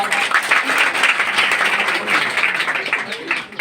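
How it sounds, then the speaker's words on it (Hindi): An audience in a Bihar village claps at an award ceremony honoring exam results; a steady wash of applause lasting several seconds, moderately close, with some voices underneath. "उनके लिए जोरदार तालियां।"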